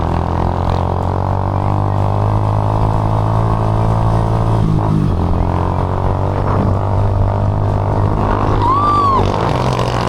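A motorcycle carrying riders strains up a steep uphill road after a waterfall trip, its engine droning steadily and close throughout, with no talk.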